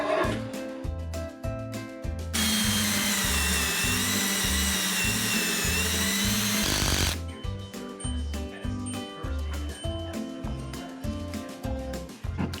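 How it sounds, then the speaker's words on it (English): A power drill drives screws into a wooden bracket for a built-in Berkey water filtration station. It gives a loud, close, sustained whine lasting several seconds, framed by lower mechanical thumping, with no talking. "You don't want to use too many of these screws because they're very expensive, Kathy."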